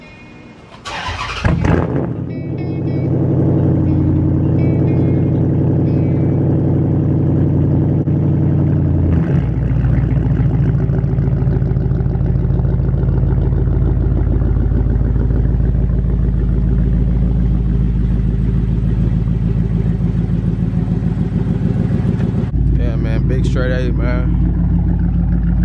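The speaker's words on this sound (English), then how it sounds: "Then I'm gonna give y'all a cold start of that," A Dodge Charger SRT8 fires up on a cold start with a sharp crank and catch, then settles into a loud, deep, steady idle rumble that holds for a long stretch before cutting off.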